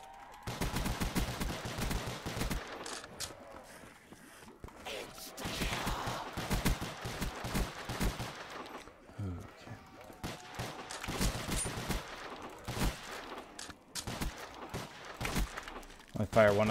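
Gunfire in a Call of Duty Zombies round, with rapid automatic bursts and single shots that keep starting and stopping, loud and dense.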